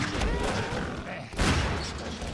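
Gunfire in the Half-Life 2 video game, several close, loud shots bursting in quick succession with a strong blast around midway, mixed with talk.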